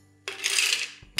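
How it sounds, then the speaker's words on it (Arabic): Ice cubes tumble into a blender jar for a mojito with a single bright, rattling clatter lasting under a second, followed by a small knock. "حطوا لي غلاصون تاعنا"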